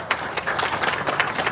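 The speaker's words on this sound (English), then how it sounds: "So let's give a big round of applause for that." A crowd at the unveiling of the VA Medical Center trolley station on San Diego's UC San Diego Blue Line gives a brief round of applause, a quick burst of close, overlapping claps outdoors.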